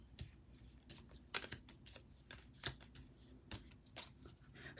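Tarot cards shuffled by hand, a close, quiet series of irregular crisp flicks and riffling clicks, with no talking.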